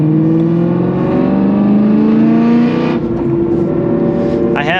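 A car driving with its entire rear interior removed and stiff suspension, a loud, close engine drone that climbs in pitch, eases off, then rises again briefly at the end.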